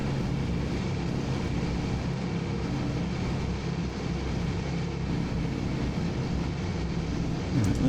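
Radial engines of a Consolidated PBY flying boat in Microsoft Flight Simulator throttle up into a loud, steady, continuous drone that holds throughout with no talking.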